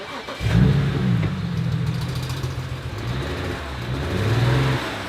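A car engine cranks and catches after misfire codes were cleared, then runs steadily and loud with a rising rev near the end, close by and with no talking.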